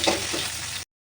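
Onions frying in a pan for a fish-head mung dal, a brief burst of close, dense sizzling that cuts off abruptly.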